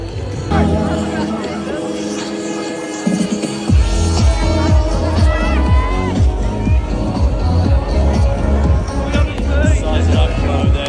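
A huge crowd packs the streets for Newcastle United's Carabao Cup trophy parade, a loud, dense roar of cheering and babble that swells suddenly and continues, with a person talking nearby over it.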